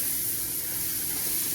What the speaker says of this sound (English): I would say fry them for at least 10 minutes